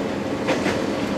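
A train rolls slowly over station switches, a steady rumbling roar with faint rail clatter throughout.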